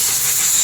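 Compressed air blasting dust off a car during a service visit, a loud, steady close-up hiss lasting under a second with no breaks.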